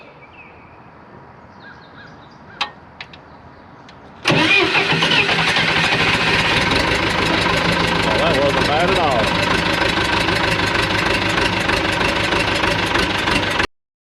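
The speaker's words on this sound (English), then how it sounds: "we'll warm the glow plugs up here and see what happens" A diesel engine with glow plugs, just back from repairs, cranks after a few faint clicks and catches, then idles loudly and steadily for about nine seconds before cutting off.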